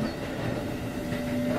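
A steady, low rumble fills a train interior in a horror video game, with a faint constant hum running over it and no talk.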